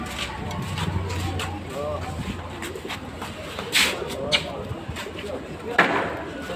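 Domestic pigeons coo in a loft, repeated soft throaty calls rolling under people talking, with a few sharp clicks and flutters nearby.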